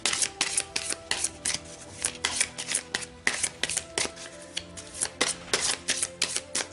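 A deck of oracle cards being shuffled by hand, a rapid run of crisp riffling and flicking bursts in an uneven rhythm, close and fairly loud, with no speech.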